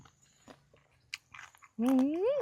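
Someone bites into crunchy dried giant jellyfish dipped in seafood sauce, with a few soft crunchy bites and chewing up close, then a short voiced sound at the end.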